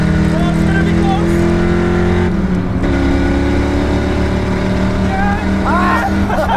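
Loud, steady engine roar from a cheap Ford Mustang racing a Honda Civic, sustained throughout with a brief dip and shift in pitch partway, and excited voices talking over it.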